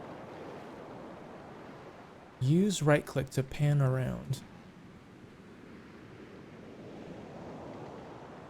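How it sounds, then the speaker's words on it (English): Steady ocean waves and wind wash beneath steering a ship in the video game The Pale Beyond, a soft continuous surf bed with a voice speaking briefly over it in the middle. "You grip the wheel of the ship and feel the weight of the waves in your arms."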